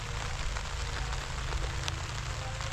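Heavy rain pours on a farm vegetable garden, a dense, steady roar with a low rumble beneath and no voices.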